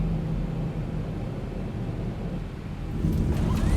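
Boeing 737 landing rollout in the X-Plane 11 flight simulator, with speed brake up and thrust reversers active, heard as a steady broadband rumble and hiss that swells louder toward the end.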